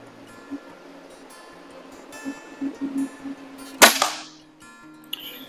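A BSA Supersport MkII Carbine air rifle fires a single RWS Superpoint Extra pellet: one sharp, close crack after a few seconds of quiet background hum, followed by a brief fading tail.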